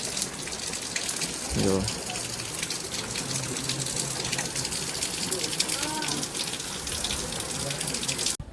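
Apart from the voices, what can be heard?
rain falling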